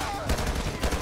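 Gunfire in GTA 5 during a sheriff SWAT patrol: two sharp shots land in quick succession over steady game ambience, with someone talking faintly alongside.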